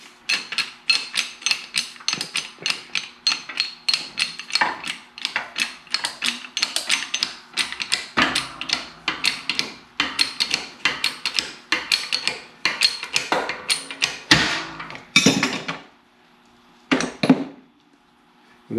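Clutch bearing collar pressed back into place with a socket during a clutch install, giving a long run of dense, rhythmic metallic clicks and knocks, close and fairly loud, ending in a few heavier clunks with brief pauses.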